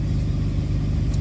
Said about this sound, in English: The truck started up. She's stumbling a little bit